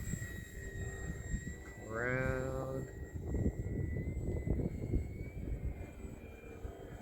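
A model airplane engine drones as the plane flies aerobatics at a field, a moderate steady buzz shifting in pitch with distance, while someone talks and a short rising whistle-like tone sounds partway through.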